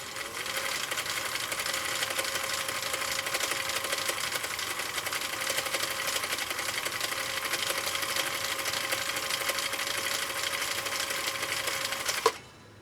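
A restored Husqvarna Viking CI 21A sewing machine runs a long, steady, rapid stitching hum on a workbench, even and close, stopping abruptly near the end with a small clunk.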